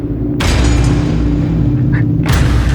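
A heavy gunshot booms once in a Crime Patrol Hindi crime drama scene, then a second blast comes about two seconds later, both loud and close, with a dull low rumble running between them.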